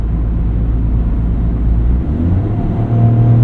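A 2025 Toyota GR Corolla with an 8-speed automatic gives a steady, loud low engine drone heard from inside the cabin, with the pitch shifting as the transmission steps down a gear near the end.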